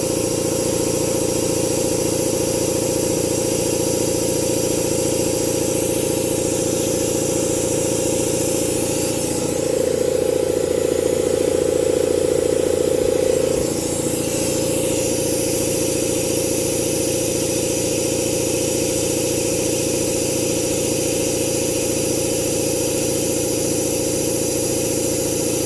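An air compressor runs steadily and loudly throughout a garage brake-bleeding job, its drone briefly shifting in tone midway as air is drawn.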